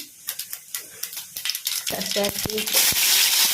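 Mustard seeds drop into hot oil for a raw mango chitranna, starting as scattered sharp pops and building into a dense, loud crackle and sizzle with quick clinks alongside.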